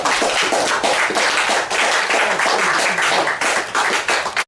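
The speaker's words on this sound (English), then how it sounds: "another hand clap for his fight" A church congregation gives a dense, continuous round of hand clapping that keeps an even, loud level close by for several seconds before cutting off abruptly at the end.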